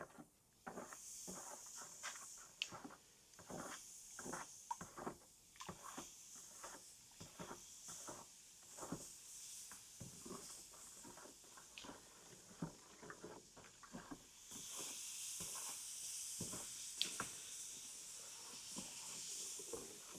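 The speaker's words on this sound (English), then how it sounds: "Ooh, fizzy." Soft fizzing and hissing of a kitchen-cupboard rust remedy, with scattered little pops and crackles, continuous and close, growing into a stronger hiss toward the end.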